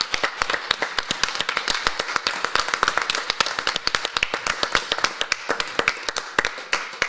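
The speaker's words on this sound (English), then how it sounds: "Can we all give a round of applause?" Audience at a recreation commission meeting applauds the staff, a dense run of sharp hand claps held steadily for several seconds in an indoor room.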